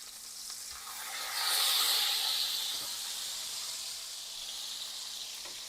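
Smash burger patties sizzle loudly in a skillet just after being flipped, a broad hiss that swells and then settles into a steady crackling fry.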